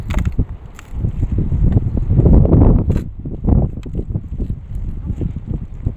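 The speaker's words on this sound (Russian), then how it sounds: "Холодно на улице, ветер, холодно." Strong wind gusting outdoors beside a raspberry patch where a fence has blown down, a loud continuous roar with buffeting against the microphone that surges and eases throughout.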